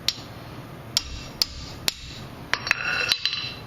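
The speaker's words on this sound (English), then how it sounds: "I got to get my hammer in here and hammer the crap out of this." Sharp metallic hammer strikes on a stripped bolt of a motorcycle's front brake, several separate blows at uneven spacing, then a quicker cluster of hits near the end.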